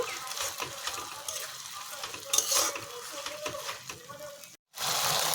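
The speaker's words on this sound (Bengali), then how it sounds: "মশলাগুলোকে ভালো করে কষিয়ে নেব" Ground spice paste for mutton curry sautéed in a pan, a close sizzle with scraping spoon strokes and occasional clinks against the metal, a brief silent gap near the end before the frying resumes.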